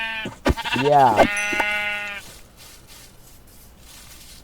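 Minecraft sheep bleating several times in quick succession, wavering game bleats followed by a sustained tone before fading to quiet background; a voice says a brief word.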